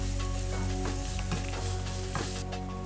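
Sautéed carrots being stirred with condensed milk in a pan for carrot payasam, a steady loud sizzle with repeated scraping stir strokes throughout, no talking.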